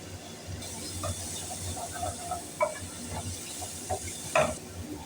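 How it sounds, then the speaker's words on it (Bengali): Onion cooking with a ground paste of ginger and spices in a pan for methi chicken, stirred steadily with a soft continuous sizzle and occasional scraping clicks from the spoon. "সেই মশলাটা দিয়ে দেবো এবার ভালো করে নাড়িয়ে চাড়িয়ে নেব পেঁয়াজের সঙ্গে"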